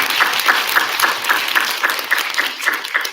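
A school assembly audience gives steady, dense applause for student writers, with rhythmic claps standing out throughout.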